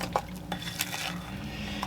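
A utensil stirs brownie mix in a bowl, with soft scraping swishes and a few light clinks against the bowl, moderately quiet and close.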